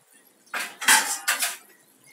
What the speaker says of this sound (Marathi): त्याच्यासाठी मी झाकण ठेवते